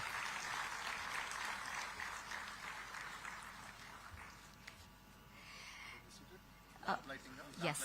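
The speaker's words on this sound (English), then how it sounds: "let's give all our speakers another round of warm applause for their gracious" Audience applause for speakers at a digital technology summit, a quiet, distant patter of clapping that thins out and fades toward the end, with a few louder bumps and handling noises.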